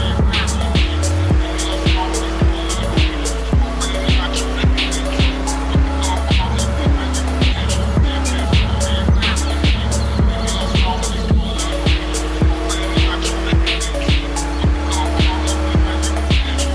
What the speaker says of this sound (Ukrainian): Звук мотора просто розриває.